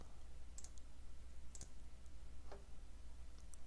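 Mouse clicks on the desktop dock of Elementary OS 5: a few faint, sharp clicks spaced irregularly over a steady low background hum.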